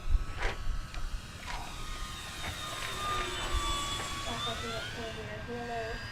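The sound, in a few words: RC Dynam Spitfire floatplane model flying past slowly with flaps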